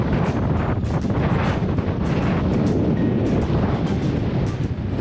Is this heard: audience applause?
no